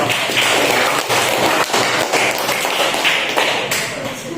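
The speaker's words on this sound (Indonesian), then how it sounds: "Tepuk tangan buat" A classroom group claps after a group presentation: dense, continuous applause from many hands, loud and close, easing slightly toward the end.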